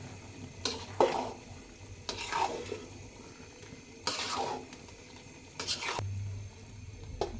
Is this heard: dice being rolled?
no